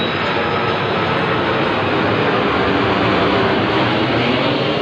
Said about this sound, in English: See another jet coming through the clouds.